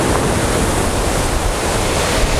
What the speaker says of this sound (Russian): высокие вот такие волны и намывают гальку